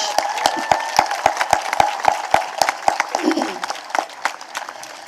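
Scattered applause from a seated crowd at a Fourth of July celebration at Mount Vernon, sharp individual claps standing out in a loose rhythm over a soft murmur, thinning toward the end.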